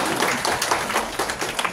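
An audience at a Buddhist temple's Buddha's birthday ceremony applauds to welcome a presiding monk, a brief burst of dense, steady clapping from many hands at close to moderate distance.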